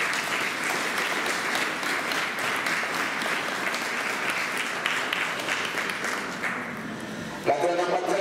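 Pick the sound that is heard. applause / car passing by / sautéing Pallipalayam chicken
applause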